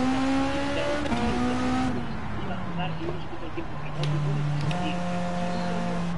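A Volkswagen New Beetle is driven in the Gran Turismo video game. Its steady engine drone climbs in pitch, drops at gear shifts and climbs again, with a voice talking over it throughout.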